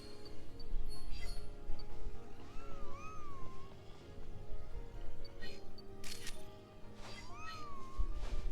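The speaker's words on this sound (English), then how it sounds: "Did Espeon just meow?" Espeon, the psychic cat Pokémon, meows inside a forest stage of New Pokémon Snap: a few short rising-falling mews heard over steady game ambience and camera-shutter-like clicks, moderately near.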